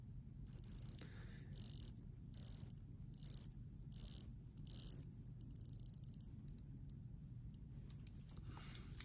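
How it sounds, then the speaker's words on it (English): Crisp, close ratcheting clicks come in several short bursts as the unidirectional dive bezel of a titanium Grand Seiko SBGH291 watch is turned, with brief quiet gaps between turns over a low background hum. "I'll give you a quick bezel action on this one as well"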